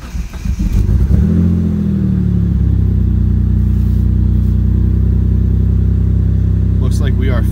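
A rear-wheel-drive Mitsubishi 3000GT cranks and fires up, then settles into a loud, steady, close idle with a brief rise in revs, and a voice is heard near the start.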